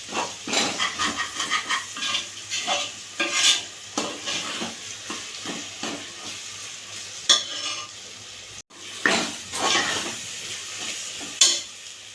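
Chicken biryani masala being stirred in a pot, a busy run of close spatula scrapes and clanks against the metal over a continuous sizzle, with no talking.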